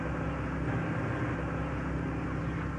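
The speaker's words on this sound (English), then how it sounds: "that's traffic around the harbor that you hear" Distant road traffic around Dogwood Harbor gives a steady, low, continuous rumble with no distinct passing vehicles and no voices.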